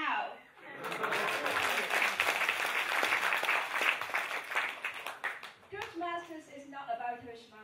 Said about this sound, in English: the audience in front of us will will always give us a big round of applause, just like now.